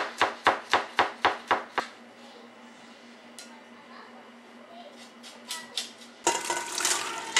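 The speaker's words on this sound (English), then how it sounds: "Just going to run your knife through it a few times, get it chopped up real nice." A knife chops smashed ingredients for peach salsa on a cutting board, a rapid run of about eight sharp, close thuds, then a pause and a few scattered knocks before a burst of clattering.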